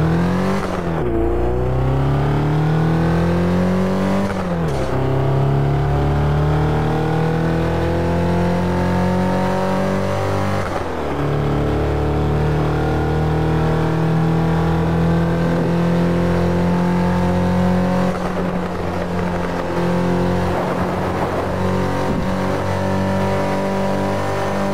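Car engine in the racing video game Test Drive Unlimited 2 revs continuously while driving. Rising pitch sweeps drop sharply at each gear shift, several times over, loud and close with no talk.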